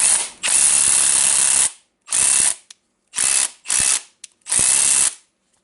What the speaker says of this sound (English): Now I need to test how it hammers.